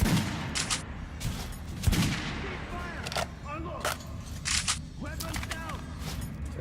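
Rapid bursts of gunfire crack repeatedly at close range during target practice in the video game Metro: Last Light, irregular shots and clusters with brief pauses, under a faint game background.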